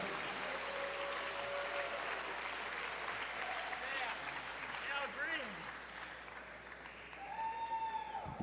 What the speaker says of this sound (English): bring the crowd to a standing, rousing ovation like that